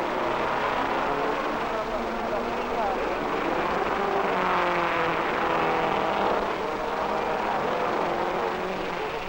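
1961 Formula One race cars pull out onto the Monaco circuit, a continuous, loud engine roar that rises and falls as they move off, with a narrator speaking over it.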